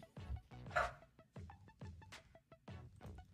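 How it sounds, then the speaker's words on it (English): A dog barks repeatedly in sharp, close, loud bursts, roughly four or five barks with a few yips between them, and no talk over it. "my dog's going crazy"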